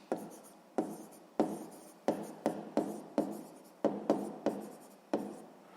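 Pen on paper while writing a word on a math worksheet, about a dozen short distinct scratchy strokes with brief pauses between them, close and clear in a quiet room with no talk.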